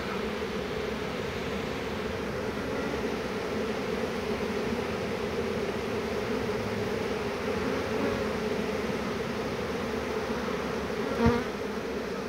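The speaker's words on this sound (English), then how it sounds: "Certainly a good roar of bees here now" A dense swarm of honeybees buzzes continuously, a steady droning roar close around, with a brief knock near the end.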